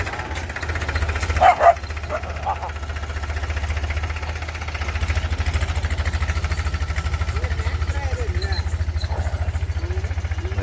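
A dog in a farm field gives a couple of sharp barks early on, over the steady knocking of a tractor engine running close by, with a voice speaking now and then.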